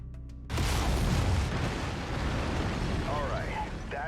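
Mech lasers fire in MechWarrior 5: Mercenaries with a sudden loud, roaring blast that holds as a dense, rumbling wash for several seconds, fading somewhat near the end as faint electronic chirps appear.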